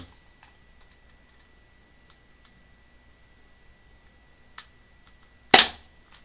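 A single sharp, loud gunshot from a Colt Combat Commander pistol fired at a target cracks out near the end, preceded by a faint click and otherwise quiet surroundings with no talking.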